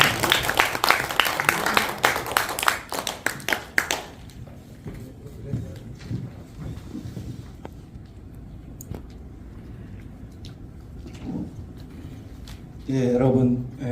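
Brief applause from attendees at an education association officers' workshop, loud clapping for about four seconds that quickly dies away into quiet room noise with scattered thumps and a voice near the end.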